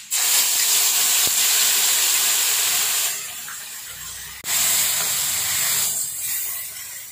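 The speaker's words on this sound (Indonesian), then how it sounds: "Pertama kita akan masukkan sedikit minyak untuk menumis." Oil heating in a pan for sautéing spice paste for Indonesian fried chicken, giving a loud, steady hiss and sizzle that runs throughout, dips briefly midway, then resumes at full strength, with no talk.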